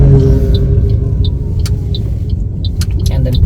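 A car on a driving test route in Mitcham slows before a left turn, a loud, steady low engine and road rumble from inside the cabin, with faint indicator ticks and a person talking over it.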